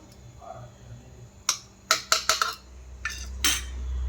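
A metal tiffin box lid being handled and shut, with a short run of sharp metallic clinks and taps, close and fairly loud, five or six in quick succession against a quiet background.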